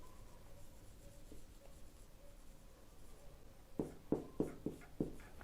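Marker or chalk strokes while sketching a molecule on a board in a chemistry lecture: a quiet room tone, then about five short, firm taps and strokes in an uneven rhythm near the end, with no talking.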